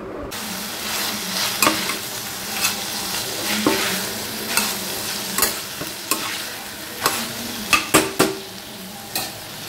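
A spatula stirs ginger garlic paste frying in a pan, a steady sizzle broken by repeated sharp scrapes and clinks against the metal at an uneven rhythm, close up and with no voices.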